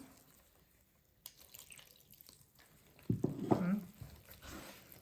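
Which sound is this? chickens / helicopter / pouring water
pouring water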